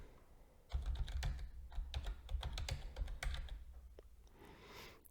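Fingers type an email address on a computer keyboard, a quiet close run of quick clicking keystrokes in an uneven rhythm after a brief silent start, with no voices.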